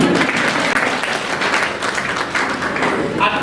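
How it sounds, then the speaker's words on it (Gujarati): An audience at a JEE guidance seminar claps together in a dense, continuous round of applause that fills the room at steady strength. "તો આ ત્રણેય ભાઈઓ માટે એક વાર તાળીઓ પડવી"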